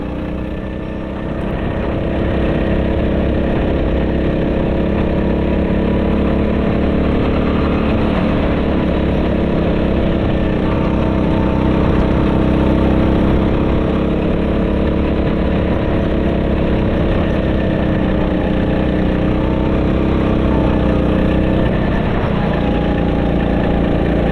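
A hire go-kart engine drones loudly and continuously on a track in Mareeba, Queensland, a steady close buzzing hum that sags and wavers slightly in pitch as the motor bogs down, with no talking.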